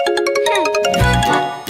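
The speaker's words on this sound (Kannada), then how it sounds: "ನಿನ್ ಫೋನ್ ರಿಂಗ್ ಆಗ್ತಿದೆ." A mobile phone rings with a short electronic musical tone in a Kannada TV serial scene, loud and near, lasting under two seconds with no talking.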